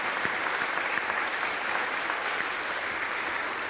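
At a men's music fraternity concert, the audience applauds in a dense, steady wash of clapping that carries evenly from start to finish with no voices over it.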